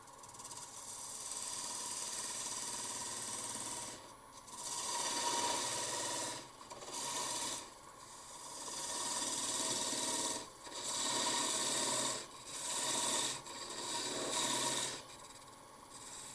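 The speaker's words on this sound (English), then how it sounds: "So I'm going to take a parting tool, come down a bit, turn the speed up a little." A parting tool cuts into an end grain wooden bowl spinning on a lathe, a steady close rasping hiss in repeated passes of a few seconds, each broken by short pauses.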